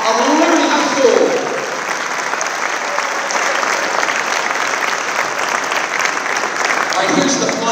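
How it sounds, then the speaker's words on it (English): Sustained applause from a crowd at a Liberty High School student athlete signing event, steady and full throughout, with faint voices mixed in. "A huge round of applause for the 2025 student athlete signing of Liberty High School."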